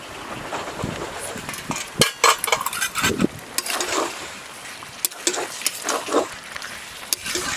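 Chicken curry meat with potatoes being stir-fried in a pan with a little water, giving a bubbling fry and scattered clinks and scrapes of a spoon against the pan in irregular bursts, heard up close.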